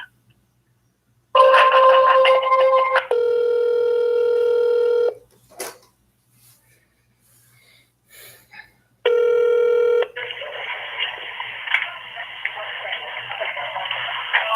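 A telephone call connects with a burst of tones, then a steady electronic ring tone repeats twice with a pause between, close and clear, followed by a hiss of line noise.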